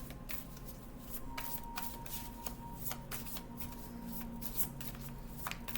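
Tarot cards are shuffled for a reading in quick, repeated riffles and soft slaps, close and steady over a low background hum, with no voice over the shuffling.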